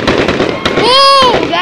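Fireworks going off outdoors, with crackling bursts and a rising whistle heard close and loud while people talk and exclaim over them.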